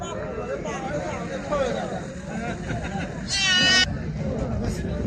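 A goat bleats once, loud and wavering, amid crowd chatter and voices at a busy outdoor gathering.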